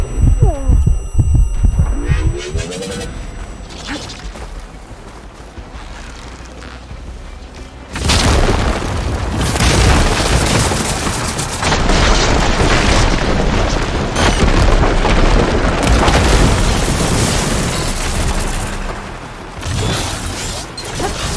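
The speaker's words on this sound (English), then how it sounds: "Hopefully they can also fire a few shots from that ballista." Heavy ballista shots boom in the video game Horizon Forbidden West, a loud sustained barrage of deep thuds and crashes over a low hum, starting after a quieter stretch of rumbling.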